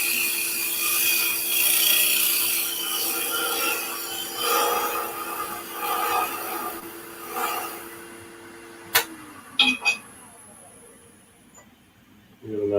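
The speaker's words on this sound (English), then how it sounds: "You can scrape going back and forth." A woodturning tool scrapes back and forth across the end of a spinning piece of wood on a lathe, giving a steady, moderately loud rasping hiss with a hum underneath, then a few short scrapes near the end.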